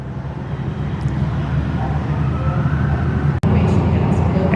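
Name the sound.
recorded airplane engine running sound in museum exhibit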